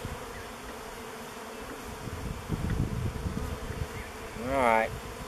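Honey bees buzz steadily in the open air around beehive nucs, a dense insect drone throughout, with a louder close pass of a single bee near the end.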